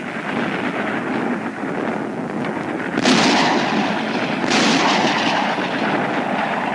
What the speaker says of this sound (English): machine guns, mortars and artillery pour a hail of metal on the Jap foxholes